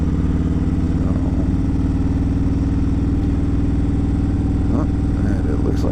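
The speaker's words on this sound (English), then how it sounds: "Now that it's been warmed up, you can really hear the cam lobe now for sure." A Harley-Davidson Street Glide fitted with a Woods cam and HPI, idling warm with a steady, loud, lumpy rhythmic engine throb throughout, a few faint background sounds near the end.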